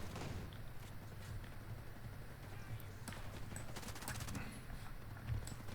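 Muffled gunfire in Ghost Recon Breakpoint, fairly faint and distant-sounding, with scattered shots and a brief rattling burst partway through over a steady game background.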